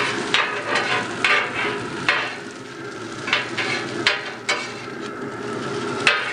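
Garlic and onion stirred on a Traeger griddle insert: repeated scraping strokes of a spatula over a steady sizzle, close and moderately loud, with no talking.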